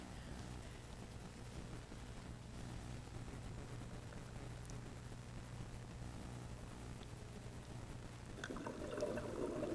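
Underwater breathing and bubbles from a diver looking out of a cave, a soft, steady wash of bubbling noise that swells and grows busier near the end.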